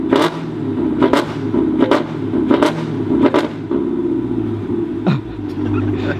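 A jacked-up Hellcat car gives a deep, steady engine rumble close by, with a series of sharp clattering bangs over it and no talking.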